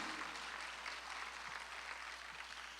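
A Sunday worship congregation in a church claps together, a dense, even wash of applause heard faint and from a distance, without a clear break.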